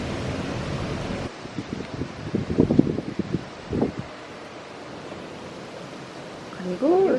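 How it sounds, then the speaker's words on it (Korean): Wind blows outdoors at dusk, gusting and buffeting in uneven bursts with a soft rustling hiss. A voice is briefly heard near the end. "바람 소리 들리시죠, 그죠?"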